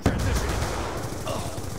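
FAL rifle fire in Call of Duty: Black Ops 2 Domination, a loud close burst of shots opening the moment and then echoing into dense battle noise.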